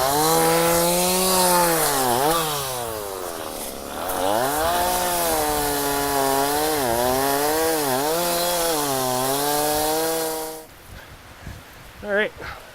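A chainsaw roars up close, its engine pitch rising and falling as it bites into wood, then cuts off, leaving a few faint knocks and rustles.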